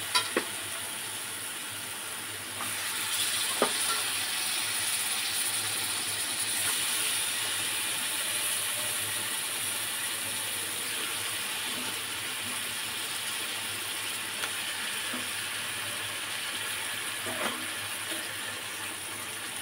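Meat sizzling and frying in a pan with oil and spices, a steady crackling hiss that runs throughout with occasional clinks and scrapes, and no talking.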